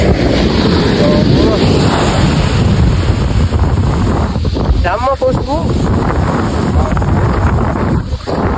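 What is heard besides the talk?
sea waves and wind on a Kerala beach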